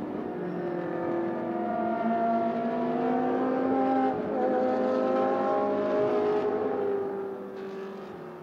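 Ferrari 488 GT3 and 458 race cars run on the Spa circuit during a Blancpain GT Sports Club qualifying race, a steady, loud multi-engine drone with rising and falling gear pitches as the pack passes, no voices.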